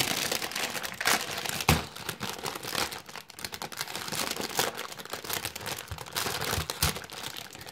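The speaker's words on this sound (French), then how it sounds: "Je vais juste prendre un tout petit peu de temps pour l'ouvrir correctement parce que je garde mes polybags." A plastic LEGO polybag is carefully opened by hand, giving continuous close crinkling and crackling with small sharp tearing snaps, no voices.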